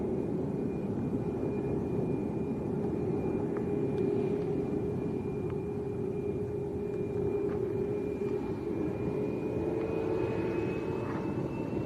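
A Ryanair jet airliner bound for Marseille from Lanzarote Arrecife Airport, its engines a continuous loud roar with a steady whine, heard alone and unbroken with a slight rise toward the end.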